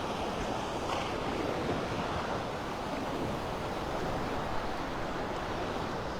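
Gulf waves wash steadily onto the beach at Delnor-Wiggins in North Naples during an evening sunset walk, a continuous broad surf roar mixed with wind buffeting the microphone, with no talking.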